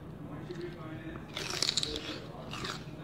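Crunchy fresh celery bitten and chewed during a fruit-and-vegetable eating session, a few close, wet crisp crunches rising midway, with talk and background murmur underneath.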